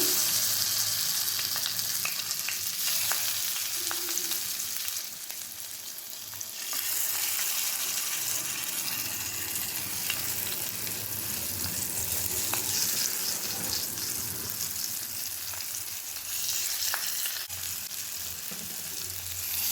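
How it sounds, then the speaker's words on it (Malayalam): Marinated paneer fries in a pan with curry leaves, giving a loud, continuous sizzle with intermittent scraping and shifting as pieces are placed, steady throughout with no talking. "മാരിനേറ്റ് ചെയ്ത് വെച്ചിരിക്കുന്ന പനീർ ഇതിൻ്റെ മുകളിലായി വെച്ച് കൊടുക്കാം."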